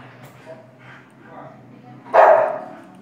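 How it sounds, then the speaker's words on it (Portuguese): A dog barks once, a single loud, close bark that rises sharply out of a quieter background of low voices and room noise during a Free Fire game session. "Cachorro."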